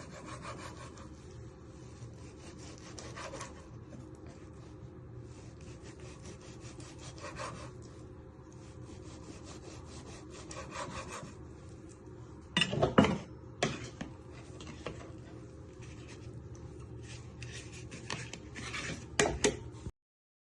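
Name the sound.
knife slicing pork steaks on chopping board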